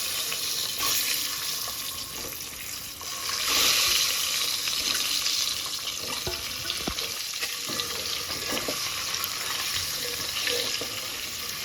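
Steady hissing sizzle of eggs frying in hot oil with turmeric powder in a pan, a dense continuous crackle that swells slightly partway through, with faint scattered clinks and no talking.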